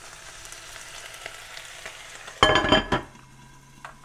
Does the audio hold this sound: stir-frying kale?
yes